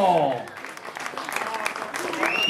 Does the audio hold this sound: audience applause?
yes